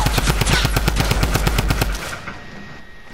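Rapid automatic gunfire in the video game Fortnite, a loud burst of evenly spaced shots for about two seconds that cuts off abruptly, with no talking.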